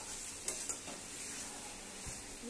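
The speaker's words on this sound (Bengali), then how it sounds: "এই যে মশলাটা কষানো হচ্ছে" Spice paste sautéing in a pan for leafy-greens chorchori, a soft, fairly quiet sizzle with a couple of brief utensil taps and scrapes early on.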